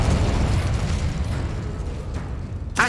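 A blast from the Confringo explosive spell in Hogwarts Legacy, a heavy rumbling boom that fades into crackling debris, with a sharp burst near the end, loud and close.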